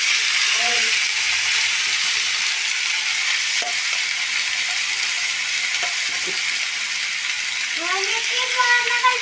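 Two spoons of oil heat in a pan with a steady, hissing sizzle that carries on evenly, and a voice speaks briefly near the end.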